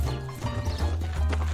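Horse hooves clip-clop in a brief burst of rhythmic thuds, close and moderately loud over a low rumbling background, with no speech.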